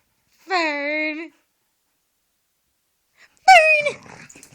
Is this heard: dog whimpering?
yes